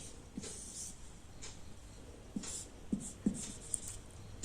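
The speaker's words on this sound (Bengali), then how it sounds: "আমি আবার একটি সেন্টেন্স লিখছি" Chalk or marker strokes on a classroom board as a sentence is written, giving a series of faint scratches and small taps at an uneven, unhurried pace over a quiet room tone.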